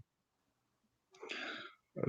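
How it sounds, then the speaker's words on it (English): A single short throat clearing, close and quiet, after near silence, followed by a brief breathy burst. "let me clear my throat"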